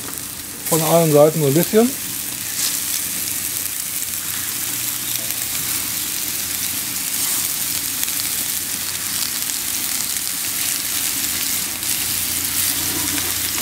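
Meatballs frying in a hot pan for a Moroccan meatball skillet, a steady broad sizzle running throughout after a brief burst of speech at the start.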